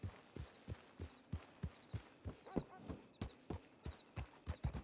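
Horse hooves clip-clop at a steady walking pace in a Western roleplay video game, even thuds repeating about three times a second, close and clear throughout.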